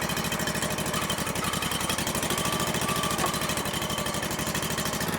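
A Ditch Witch trencher engine running steadily up close, a loud continuous rapid chugging drone with an even pulsing rhythm and no talking.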